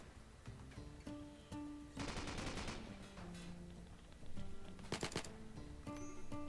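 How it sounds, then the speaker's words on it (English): Gunfire in the colony game Rimworld: bursts of rapid shots crackle over a steady tonal music bed, with a dense volley early on and a sharper cluster of shots later, fairly faint overall. "Don't appreciate you shooting me."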